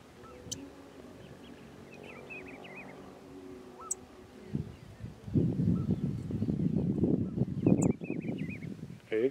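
A few faint, high chirps from a tico-tico (rufous-collared sparrow) come at the start and again near the end, set against soft rustling and heavier handling or wind noise outdoors.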